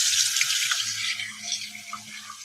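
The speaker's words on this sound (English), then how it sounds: "Let me rinse this brush real quick." Water runs steadily from a studio tap as a paintbrush is rinsed under it, a close, continuous splashing hiss with a faint low hum beneath and no talk.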